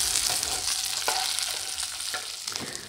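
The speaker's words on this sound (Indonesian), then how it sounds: "Kemudian 4 siung bawang putih. Kita goreng sampai matang." Four garlic cloves frying in hot oil until browned, a loud, continuous sizzle close up with occasional scraping stirs.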